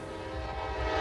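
A Norfolk Southern train sounds its horn at a crossing, a sustained steady blast building slightly louder over a low rumble, heard alone.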